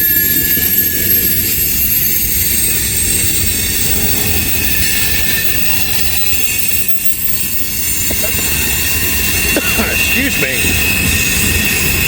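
Freight train of potash grainer cars rolling past close by, a loud continuous clatter and rumble of wheels with high metallic squeals and ringing, a brief spoken word partway through.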